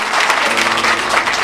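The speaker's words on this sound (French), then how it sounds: "Applaudissements" Loud, close applause fills a school excellence awards ceremony, a dense, even wash of many hands clapping with no pauses.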